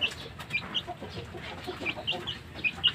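Chicks and chickens at a small poultry farm clucking and peeping, repeated high chirps over a bed of soft clucks, close by with no voices.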